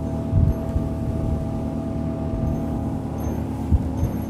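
A Ranieri motorboat's engine hums steadily at reduced speed near 5,000 rpm, with the throttle eased back and the hull turning left, a smooth tonal drone broken by a few low thumps of water against the hull.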